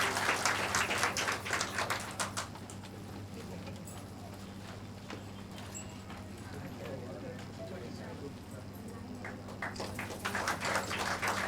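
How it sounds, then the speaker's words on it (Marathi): Audience clapping at a Women's Day event held by a women's political wing in Vasai taluka. Bursts of applause open and close the stretch, with a quieter murmur and steady hum between them. "जोरदार टाळी वाजवा ताईंसाठी."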